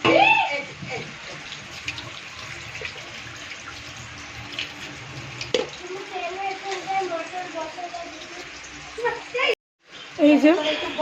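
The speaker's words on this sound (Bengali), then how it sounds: "চাল আর ডালটাকে একটু ধুয়ে নিই" Tap water runs steadily over rice and lentils being rinsed, a continuous close splashing stream that breaks off briefly near the end and then resumes, with voices heard faintly in the background.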